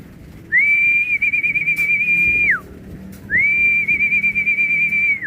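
A person whistles to call birds, two long, steady, high-pitched notes, each lasting about two seconds with a slight warble, separated by a short pause.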